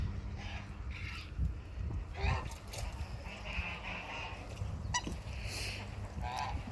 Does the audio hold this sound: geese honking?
yes